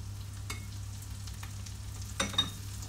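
Chopped coriander with stems fries with onions over high heat, a faint steady sizzle with a few brief stirring clicks near the end, quiet and without voices.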